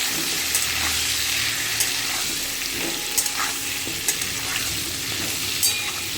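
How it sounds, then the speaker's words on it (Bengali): Potato pieces frying with salt, turmeric and chili powder, a moderate, even sizzle with occasional clicks and scrapes of stirring throughout. "এক চিমটি নুন এক চিমটি হলুদ আর একটু কালারের লঙ্কা খুব ভালো করে আলুগুলো ভাজবো"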